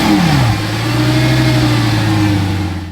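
A Lamborghini Gallardo's 5.0 V10 engine revs loudly up close, pitch sweeping down then holding a steady high-revving drone for about three seconds before cutting off.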